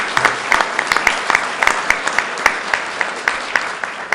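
Audience applauding state senators at a government flood recovery announcement, loud steady clapping from a sizable crowd with distinct individual claps standing out, lasting about four seconds.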